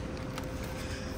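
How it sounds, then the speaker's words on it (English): An air conditioner mounted overhead makes a dense, steady whooshing roar that fills the background, close and constant, with no talking over it. "It's because the air conditioner is right above my head and"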